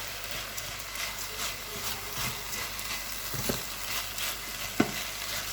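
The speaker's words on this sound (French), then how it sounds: "Là je vais mélanger." A spoon stirs chicken curry risotto in a pan, giving a steady soft sizzle and scraping with a few sharper knocks near the end, and no voices.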